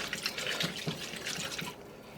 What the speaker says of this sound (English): we're going to add in the water